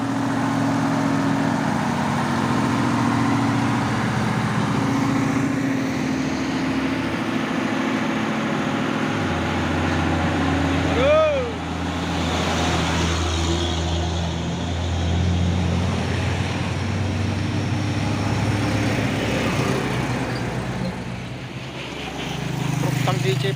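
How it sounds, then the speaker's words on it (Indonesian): Euro 4 CPO tanker truck engine idling and rumbling nearby in low tones, with traffic around and a brief whine midway, as people talk over it throughout. "Truk tangki CPO Euro 4."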